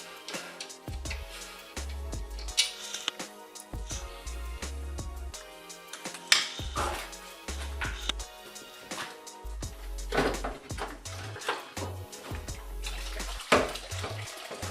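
Coolant drains out of a car radiator during a fan swap on a Talon, making irregular splashing and gurgling water sounds mixed with knocks and rattles from the work nearby.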